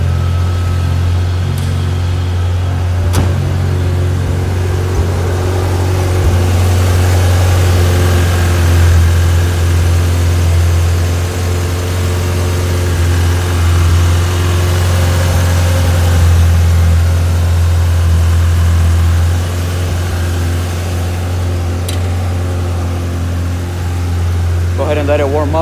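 1995 Ferrari F355 GTB with gated manual gearbox idling as it warms up, a steady close low engine drone holding for about twenty-five seconds with slight variation.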